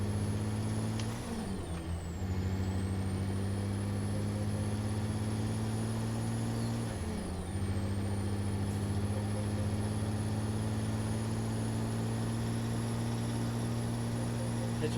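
Simulated heavy truck engine from a ZEEMODS sound pack in a truck-driving game, W900 interior view, a steady loud diesel drone with two brief dips in pitch around gear changes, continuous throughout.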